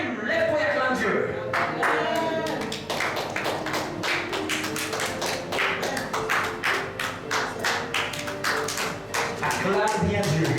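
Congregation clapping in rhythm during a church worship service, a steady run of sharp hand claps that carries on throughout with singing and voices mixed in.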